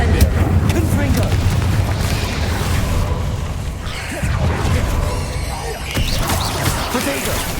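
Incendio fire spells and Confringo blasting spells cast in the Hogwarts Legacy video game, heard as loud, continuous booming and crackling bursts mixed with game effects, with a voice calling out spell names over them.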